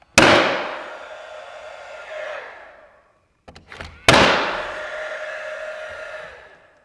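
A powder-actuated nail gun fires 16 gauge loads to tack up interior Smartside panels in a garage: two loud, sharp bangs a few seconds apart, each followed by a long metallic ringing decay, with no talk.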